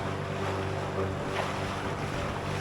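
A custom alloy pontoon dinghy runs through waves with a steady engine drone, water slapping and rushing against the hull and heavy wind buffeting the microphone, continuous and close.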